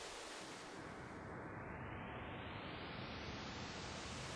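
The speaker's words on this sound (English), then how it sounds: "If I show you like a pink noise for a second, and there's a pink noise." Steady, even hiss of synthesized pink noise from the iZotope Iris synth plug-in, with a smooth, washed-out reverberant character, constant in level throughout.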